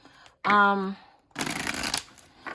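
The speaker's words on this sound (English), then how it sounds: "you might want to side shuffle them as opposed to bridge shuffle" A short vocal sound, then a quick rustling burst of oracle cards being side-shuffled, close and crisp, lasting under a second.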